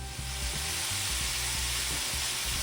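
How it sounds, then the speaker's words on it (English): Steak sizzles steadily in a hot skillet, a continuous dense frying hiss with faint intermittent low knocks, close and fairly loud with no talking. "I'm gonna go ahead and add my steak in to the skillet"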